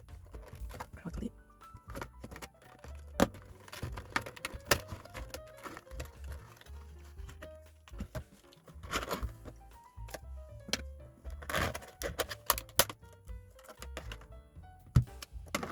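A PC hard drive is unboxed from its package. Crinkling wrap, rustling and dull thunks of cardboard and plastic come in irregular bursts under ongoing talk.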